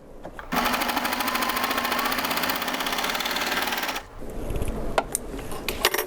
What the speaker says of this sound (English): Now, basically all I do is I just serge these 2 pieces together.